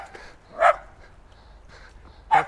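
A dog barks in a residential neighborhood in Prescott, Arizona, giving two short, fairly close yips about two seconds apart over a quiet background.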